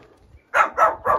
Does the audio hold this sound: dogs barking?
yes